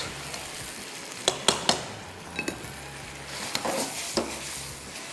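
Penne pasta being stirred and folded through hot sauce in a pan, with a steady sizzle underneath and several close, sharp clinks of a utensil against the pan.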